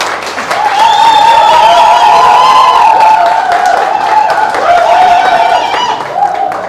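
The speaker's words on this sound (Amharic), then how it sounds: "አጨብጭቡ።" Sustained applause and cheering from a gathered crowd at the launch of a school reunion association for Bethlehem school's 1998 E.C. batch, loud and steady throughout with high ululating voices riding over the clapping.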